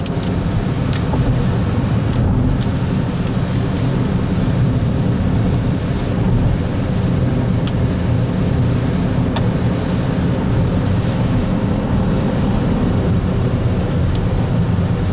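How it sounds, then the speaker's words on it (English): Steady road traffic noise heard from inside a moving car on a morning drive home, a continuous low rumble of engine and tyres throughout with no talking. "There's an awful lot of traffic on the road this morning."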